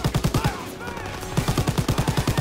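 A turret machine gun fires in Call of Duty WWII, two fast rhythmic bursts of loud, close gunfire separated by a brief pause.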